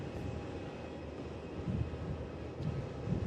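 A Boeing 737 lands at Melbourne Airport. Its engines make a faint, distant low roar that swells slightly toward the end, with no one speaking.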